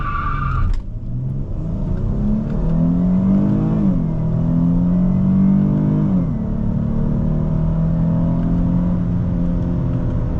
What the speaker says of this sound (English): We're gonna go ahead and hit launch control, activate launch control.